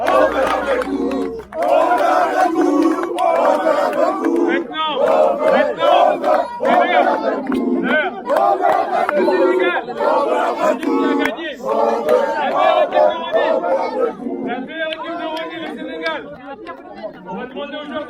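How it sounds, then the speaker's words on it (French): A dense crowd at a Senegal versus Mali amateur football final in Rosny-sous-Bois shouts, chants and cheers loudly and continuously, rising and falling with overlapping voices close by. "Alors on les applaudit bien fort."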